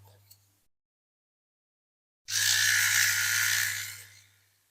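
An old toothbrush with washing-up liquid scrubs a diecast Dinky Plymouth Plaza model, a steady close hissing brush noise lasting about two seconds after a quiet pause, with no talking.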